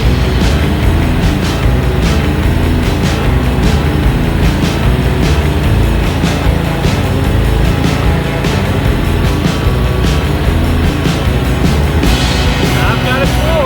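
A Ferris zero-turn lawnmower runs flat out at full throttle, its engine giving a steady, loud, unbroken drone that lasts the whole time, with wind buffeting the microphone.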